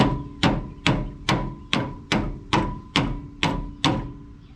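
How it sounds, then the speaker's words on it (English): Nine evenly spaced, loud hammer blows ring out on Super Duty Dana 60 inner axle parts, each sharp metallic strike followed by a short ringing decay. "hammer's always the answer, right?"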